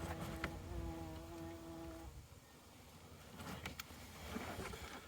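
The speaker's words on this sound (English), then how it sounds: "That was a queen wasp." A large queen wasp buzzes close by for about two seconds with a steady droning hum, then fades into quiet outdoor background noise with faint rustles and clicks.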